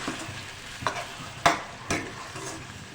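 Curry gravy of tomatoes and spices cooks on a slow flame in an egg and chickpea curry, giving a soft sizzle with a few distinct stirring scrapes and taps.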